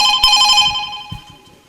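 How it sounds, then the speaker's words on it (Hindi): A telephone rings in a loud bright burst of electronic tone that quickly fades over under two seconds, with no talking. "लगता है मेरे बेटे का फोन आ रहा है।"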